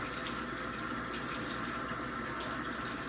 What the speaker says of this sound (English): Wash off the knife as well, because it's covered in onion.